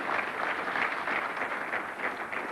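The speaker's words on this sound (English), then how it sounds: "the crowd appreciating the bowling here" Crowd applause at a 1989 ten-pin bowling match at the Logan City Lanes, a steady close wash of clapping that holds evenly for a few seconds without voices.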